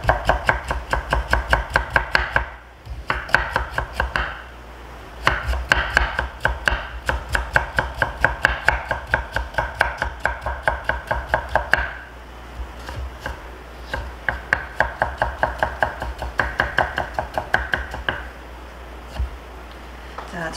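A knife julienning radish on a cutting board for kimchi gives steady, rapid, close chopping taps in long runs with a few short pauses between them.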